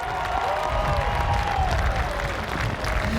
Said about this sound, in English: Nice round of applause for Stan Meserve.